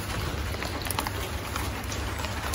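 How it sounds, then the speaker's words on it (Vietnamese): Cold rain falling steadily outdoors near a home garden, a dense, even hiss of drops that stays constant throughout without any talk. "bây giờ mưa lạnh quá"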